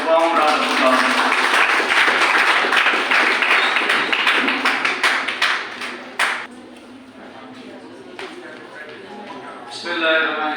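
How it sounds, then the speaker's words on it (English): An audience claps warmly to welcome a speaker onto the stage at a university innovation cell inauguration, with loud sustained applause thinning into scattered individual claps and a brief renewed swell near the end. "Let's give him a warm round of applause."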